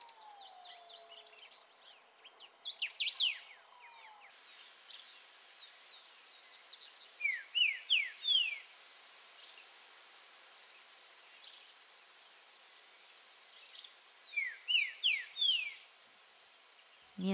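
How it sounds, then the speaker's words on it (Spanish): A common grosbeak sings in the open countryside of Uruguay, giving bursts of quick, bright whistled phrases in several clusters separated by pauses, faint against a quiet background. "Un rey del bosque común compite por el espacio sonoro con su canto."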